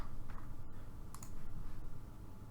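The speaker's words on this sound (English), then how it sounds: "let's select this paint and just start clicking on the areas where we will have grass" A computer mouse clicks while paint is applied to areas in modelling software, a few sharp, sparse clicks close by over a steady low hum.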